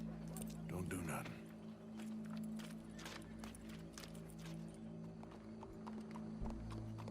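Horse hooves clip-clopping in Red Dead Redemption 2, steady near footfalls under a low ambient hum and background game sounds, with a faint whinny-like cue.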